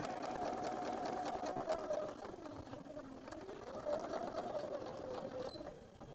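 Domestic sewing machine stitching an embroidery tree skirt, a close, steady mechanical whir with rapid needle chatter and slight pitch wavering, running continuously until it slows near the end as the bobbin thread runs out.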